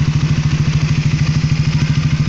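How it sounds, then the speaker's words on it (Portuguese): Honda Twister motorcycle engine started by a remote alarm ignition, idling with a loud, steady, rapid low thumping pulse right up close. "Ele acende, espera a bomba funcionar, em seguida a partida."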